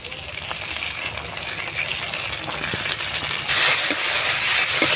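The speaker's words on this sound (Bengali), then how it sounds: "মশলা খুব সুন্দরভাবে কষানো হয়ে গেছে দেখুন এবারে দিয়ে দেব সর্ষে বাটা" Mustard paste going into spices frying in a pan for a Bengali lote (Bombay duck) fish curry, a steady rushing sizzle that grows louder and brighter partway through, close and continuous with no talk.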